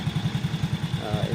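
A repaired Honda XRM 110 motorcycle engine idles nearby with a steady, rapid low thumping pulse, a faint rising whine entering near the end.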